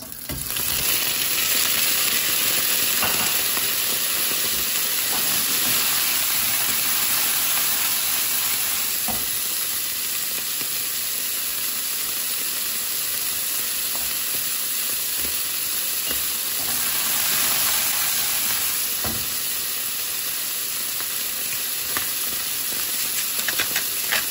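Cooked chicken gizzards sizzle loudly in hot oil in a pan, a dense continuous frying hiss close up, broken now and then by faint stirring clicks, with no talking.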